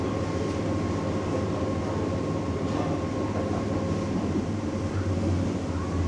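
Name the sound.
diesel train running over a river bridge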